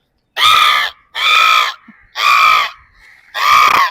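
A young man imitates a crow with four loud, harsh cawing calls, each roughly half a second long and evenly spaced by short silent gaps, close to the microphone.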